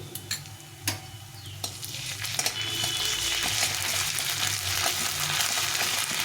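Ginger, cumin and chilli paste fries with rice for banana-flower ghonto. A few spoon clicks come first, then a loud, close sizzle swells and holds steady, with no voices.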